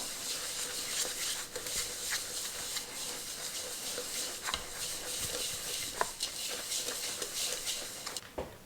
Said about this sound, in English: And let's whisk it up.